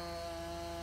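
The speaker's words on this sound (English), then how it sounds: "align your chainsaw vertically and cut a small log about 1 meter" A chainsaw in the video game Farming Simulator 19 cuts into a log with a steady, droning whine that holds without pause, fairly faint and with no speech.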